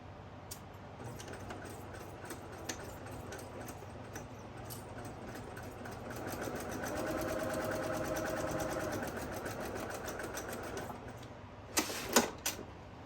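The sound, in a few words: sewing machine stitching a tote bag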